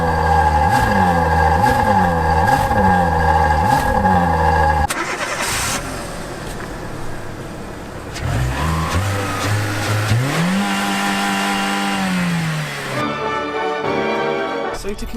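A Ferrari 6.3-litre V12 is close by. It blips in rhythmic revs, then cranks and catches, settles into a rough idle and climbs through a sustained rev before easing back to a steady hum.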